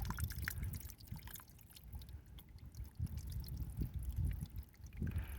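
Quiet spring water trickles off a leaf stuck into rock, splashing in an irregular stream, close by and soft, with faint outdoor background on a mountain trail.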